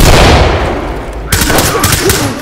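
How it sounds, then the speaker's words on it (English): Loud gunfire and a flashbang in Ready or Not, a tactical shooter: a sustained roaring blast fades over a second, then a burst of sharp, rapid shots follows, close and heavy. "Taking shots, I'm flashbanging"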